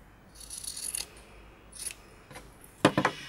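Scissors snip through sock fabric for a doll's underskirt, several short close cutting strokes in quick bursts with pauses between, ending in a few sharper snips.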